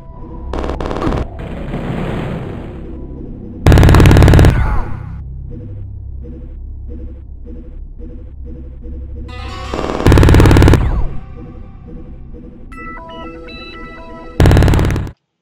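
Uzi and minigun fire from the video game Syndicate Wars: loud bursts of rapid automatic gunfire, in three main volleys, with a steady rumbling game soundtrack underneath.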